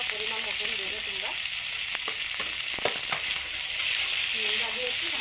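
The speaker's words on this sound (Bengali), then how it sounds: "বেগুনটাকে সুন্দর করে ভেজে নিতে হবে।" Brinjal pieces frying in hot oil with salt give a steady, close sizzle throughout, with a few scraping stirs and light clicks breaking through the constant hiss.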